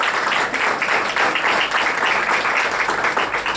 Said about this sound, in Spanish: Démosle un aplauso de estímulo a Nelson